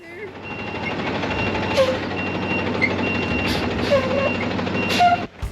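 A delivery truck bringing a sauna to a ranch backs up, its reversing alarm giving a few spaced beeps over a steady bed of engine and outdoor noise.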